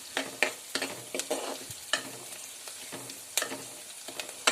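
Ivy gourd sautéing in coconut oil, a crackling sizzle punctuated by frequent sharp spatula scrapes and taps against the pan, close and fairly quiet, with no talking.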